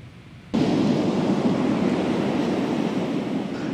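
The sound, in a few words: raging sea waves on the West Philippine Sea during a typhoon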